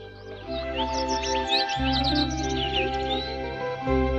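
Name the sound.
birds chirping in the distance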